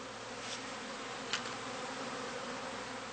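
Honey bees hum steadily around a heather skep in an apiary during cast swarming, a continuous, fairly soft buzzing drone with no voices.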